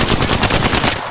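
Sustained automatic gunfire in the shooter game Apex Legends, a loud, close, rapid stream of evenly spaced shots filling the whole short burst, without talking.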